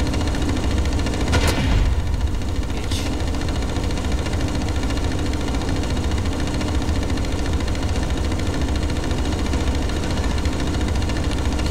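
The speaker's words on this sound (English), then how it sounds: "you hear that non-stop firing too?" A non-stop gunfire audio glitch from Blacklight Retribution runs as a dense, unbroken mechanical rattle at constant loudness, with a couple of sharper cracks near the start.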